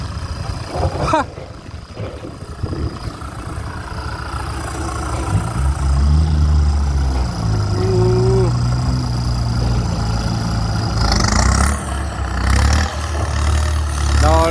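A Kubota M6240SUH tractor with a modified exhaust idles nearby, its deep rumbling throb building after a few seconds and holding steady and loud, with faint background noise at the start.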